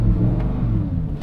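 Lamborghini Huracán STO with a naturally aspirated V10 engine holding a deep, steady rumble close by, revving against the limiter, with no talk over it.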